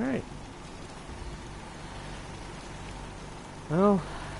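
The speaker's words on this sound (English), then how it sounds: "hope this rain lets up soon" Steady rain in the video game Fallout 4 hisses throughout, a soft constant patter, while a voice briefly speaks at the start and again near the end.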